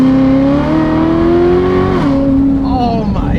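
A Corvette ZR1 engine pulling hard under acceleration, loud and close from inside the car, its rising tone climbing steadily before a shift drop, then building again while a voice speaks over it.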